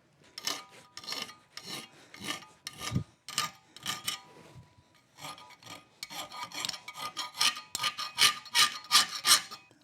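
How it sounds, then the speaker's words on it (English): A fine file rasps back and forth across metal in quick, uneven strokes, close and fairly quiet, with short pauses between bursts of filing and no talking. "I'm going to get a finer file"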